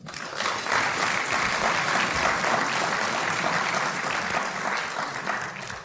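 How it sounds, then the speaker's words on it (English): Sustained applause from a large audience at an evening event welcoming Michael Morgan, a dense, steady wash of clapping at even loudness throughout, close and full with no talk over it. "So with a round of applause, please, Michael Mórgán."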